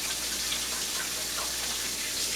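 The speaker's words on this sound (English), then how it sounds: "let me rinse my hands quickly" Steady rush of water from a kitchen tap as hands are rinsed after handling raw eggs, a continuous broadband hiss heard up close with no talking.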